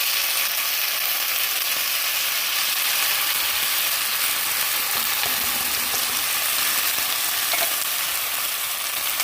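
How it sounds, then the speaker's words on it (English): Fideo noodles sizzle in a pan for sopa, giving off a loud, dense, continuous crackling hiss with no voices. "now you're going to hear a whole bunch of sizzling sounds"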